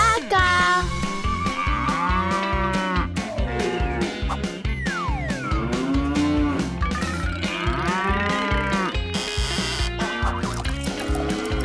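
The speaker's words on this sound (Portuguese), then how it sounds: "Você precisa encontrar uma vaca!" Cattle mooing in an animated children's breakfast story, several long harmonic lowing calls rising and falling over continuous music, loud and close throughout.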